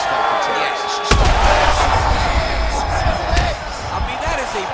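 A head kick landing in the EA Sports UFC 5 fighting game, one sudden heavy thud followed by a loud crowd reaction, with commentary voices running underneath.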